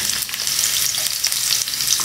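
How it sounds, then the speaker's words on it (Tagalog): Garlic for toppings fries in a pan with a loud, continuous hiss and crackle of hot oil, close and unbroken, with no voices. "Ito yung ating bawang ipa-fry natin para sa ating toppings."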